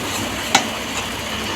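Grated taro (kochu) is stirred and dried out in a hot pan, giving a continuous close sizzle with two sharp scrapes of the spoon against the pan, with no one speaking.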